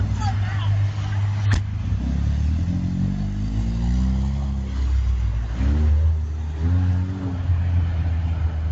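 A car's engine revs as it pulls away, rumbling steadily under people talking, with a sharp clatter near the start.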